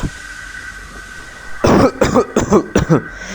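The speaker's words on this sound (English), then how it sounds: "Henry coughed and wheezed." A cartoon steam engine breaking down in a forest, coughing and wheezing in a series of harsh, hacking bursts close up after a quiet hiss, sounding like a human cough.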